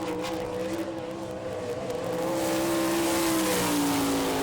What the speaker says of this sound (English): Your next qualifier out of Fremont, Ohio, the UUI Utilities, Kistler Engines, Kier Speed Shop, Pro Shocks, number 15K, it's Chad Kemenoff.